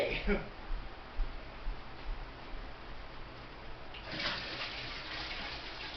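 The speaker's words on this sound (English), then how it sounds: "So we're going to continue dipping water." Water being dipped from an aquarium fish tank into a bucket, giving soft splashes and sloshing near the start and a broader wash of water later, with low background noise throughout.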